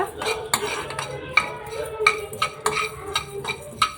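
Spicy chicken fry stirred in a pan over low heat, a steady run of sharp metal spoon scrapes and clinks against the pan over a faint sizzle, close and without talk.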